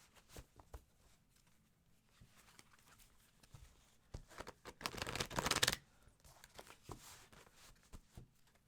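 Tarot cards shuffled by hand, soft papery riffles and taps building to a brief, louder burst of rapid flicking midway, then quieter shuffling, close and alone.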